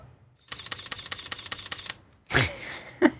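A camera shutter firing in a rapid burst of about a dozen evenly spaced clicks, close and crisp, followed after a pause by a short louder handling noise and a click.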